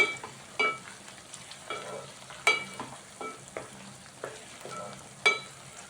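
Sliced bitter gourd (kakarakaya) frying in hot oil for an Andhra-style fry, with a steady soft sizzle broken by repeated scraping stirs of a spatula, several sharp louder scrapes standing out, no voices.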